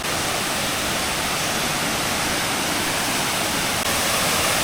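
Bangara Kusuma waterfall in Honnavar, Karnataka, seen from a distance, roars as a loud, dense, unbroken wash of falling water that fills the whole clip with no voices.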